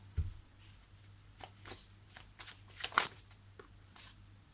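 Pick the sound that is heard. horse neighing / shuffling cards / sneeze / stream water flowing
shuffling cards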